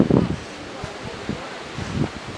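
Strong wind buffets the microphone at Khao Krachom, a mountain viewpoint on the Thai–Myanmar border in Suan Phueng, Ratchaburi, with low rumbling gusts and rustling bursts, loudest at the start and again near the end.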